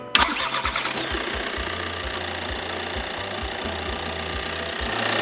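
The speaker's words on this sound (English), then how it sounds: "Once the vehicle has started and the engine is running" A car engine is jump-started with an OSRAM BATTERYstart PRO 1000. The starter motor cranks loudly for about a second, the engine catches, and it settles into a steady, close idle with a rhythmic low throb.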